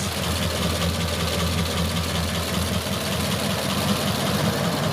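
A 1929 Ford Phaeton engine idles steadily up close, a continuous low rumble with a fine mechanical patter running evenly through it, heard alone without talk.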